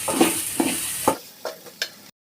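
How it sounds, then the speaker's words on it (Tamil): Vegetables sizzle as they are sautéed over a slow flame while a spoon stirs them, several scraping strokes in a row before the sound cuts off abruptly. "நல்லா வதக்கிக்கணும்"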